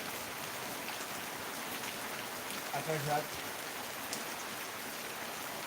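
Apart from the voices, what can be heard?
rain falling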